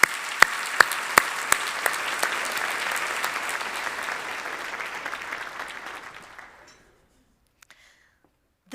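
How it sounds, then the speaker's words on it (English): An audience gives a round of applause for award winners at a corporate awards event: dense, steady clapping with a few sharp louder claps, tapering off and fading out after about six seconds into near silence. "please join me one more time in giving them a round of applause"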